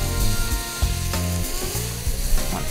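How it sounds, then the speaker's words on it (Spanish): Green and red peppers, carrot and onion frying and being stirred in a pan for a four-person stew, with loud continuous sizzling and repeated close spoon scrapes and knocks against the pan. "seguimos removiendo para que no se pegue"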